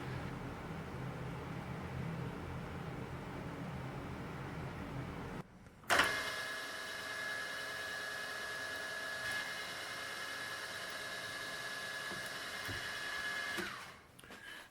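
A machine spot drills a hole in an assembly fixture. A quiet hum gives way to a sudden whirring start, followed by a steady high-pitched drilling whine for several seconds before it winds down.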